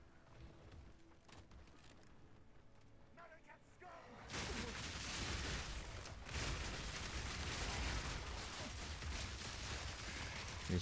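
Grenade bombs dropped in Path of Exile 2 go off after a quieter stretch, becoming a loud, continuous rumble of overlapping blasts that lasts until the end.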